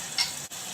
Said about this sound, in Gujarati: હવે આપણે એમાં નાખીશું ટામેટા ટામેટા સંતળાય છે